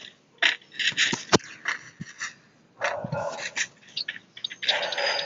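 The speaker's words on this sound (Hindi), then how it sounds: "ये डॉगी क्यों भौंक रहा है भाई?" A dog in an online shooter video game barks and yelps in short bursts amid scraping and other game noise, fairly close and loud.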